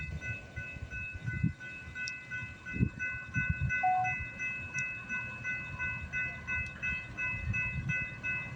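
Freight train led by CSX units on the CPKC Galt Subdivision at Bronte, a low rumbling roll of railcars with steady tonal hum and occasional squeals, heard from trackside in the early morning.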